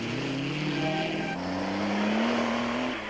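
Rally cars race flat out on the Rustenburg 400 in 1995, a Toyota and a Nissan among them, with engines droning loud and steady as revs climb in long rising sweeps and one car passes close by, with no talk.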